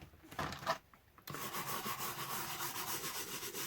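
Simple Green cleaner being rubbed by hand onto the Rexine-covered case of a Roberts R717 radio, a soft, close scrubbing and rasping that starts in short strokes and then turns into steady continuous rubbing.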